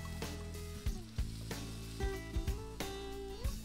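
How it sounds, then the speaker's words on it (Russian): Chopped onion frying in vegetable oil in a pan sizzles steadily and loudly, with a few sharp clinks and scrapes of stirring scattered throughout. "Добавляем немного растительного масла и кладем жариться репчатый лук."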